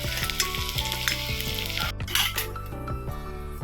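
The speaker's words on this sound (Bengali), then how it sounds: "ফুলকপি বড়া, একটু লাল করে ভাজবো" Cauliflower fritters frying in hot oil and browning, giving a steady close sizzle under tonal background music.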